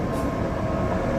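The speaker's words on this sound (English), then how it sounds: "That should be the Byford train." The Byford train on Perth's Armadale Line, heard as a loud, steady rumble and hum of a passing or arriving rail train, close and continuous with no talk.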